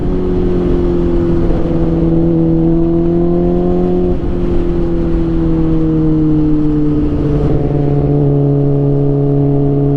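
Motorcycle engine revving while riding, a loud, close, steady droning tone that sags and climbs slightly as the throttle changes, with wind and road noise underneath and no talking.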